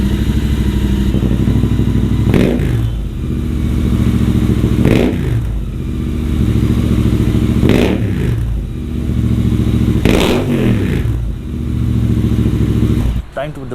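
A Royal Enfield Interceptor 650 fitted with an AEW exhaust idles with a deep, bassy, steady thrum close by, broken by short throttle blips roughly every two and a half seconds.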